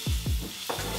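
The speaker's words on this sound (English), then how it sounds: "Listen to that sizzle." Diced onion hits hot olive oil in a pan and sizzles steadily, with a couple of low thumps as it lands and gets stirred, loud and close.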